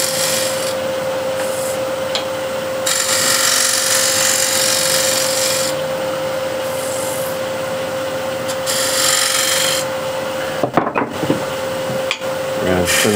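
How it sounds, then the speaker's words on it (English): A scraper finishes the foot of a wooden bowl spinning on a lathe, producing a continuous close rasping scrape that swells and eases in strokes over a steady motor hum. "with the scraper, finish off here nice and gently."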